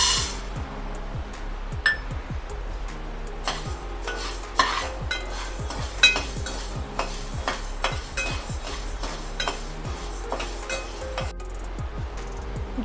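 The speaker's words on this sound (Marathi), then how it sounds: "आता आपण ज्वारी भाजून घेऊया।" Jowar (sorghum) grains are dry-roasted in a pan over a gas flame, stirred steadily so the grains rattle, tick and clink against the metal in a dense, continuous patter, with no talking.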